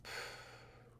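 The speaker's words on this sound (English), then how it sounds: "And to do that just simply by breathing in and breathing out." A slow, deep breath drawn in for classroom meditation: a soft, airy, steady rush, faint and close, with no talking.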